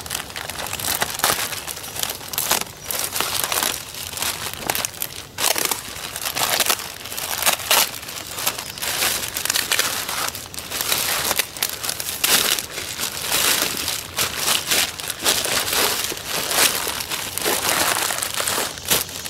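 A plastic bag being pulled open and handled to reach a Target cover inside, a steady, loud, close crinkling and crackling that goes on without pause for many seconds.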